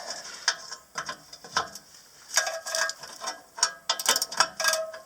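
A spanner ratcheting on a nut and bolt on a Toyota Celica exhaust, giving close, quick bursts of clicking in short irregular runs separated by pauses.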